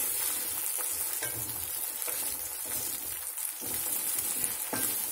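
Egg stir-frying for restaurant-style Chinese egg fried rice, a steady loud sizzle with repeated scraping stirs of the spatula throughout, no talking.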